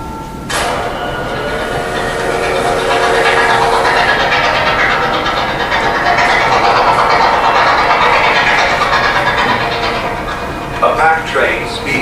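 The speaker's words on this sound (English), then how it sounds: "A packed train speeds on its way south, ready to replenish the Union Army with fresh troops and supplies." A packed steam-era troop train speeds along the rails, a loud, continuous rumble and rattling of wagons close by, with someone narrating over it throughout.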